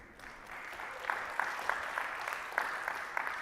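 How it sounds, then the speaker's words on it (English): Moderate applause from a seminar audience, with several sharper individual claps standing out over a soft, steady patter of clapping. "And you guys can clap at that"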